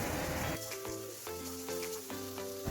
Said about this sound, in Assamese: এতিয়া এইখিনি আৰু অকণমান ভাজি ল'ম।